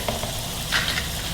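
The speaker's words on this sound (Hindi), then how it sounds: "इसको हम फ्राई करते हैं। ऑयल मैंने ऊपर रखा हुआ है गर्म होने के लिए, तो ऑयल के अंदर डालते हैं।" Samosa patties dropping into hot oil for deep frying, a steady close crackle with a brief brighter burst of sizzling partway through, no voices.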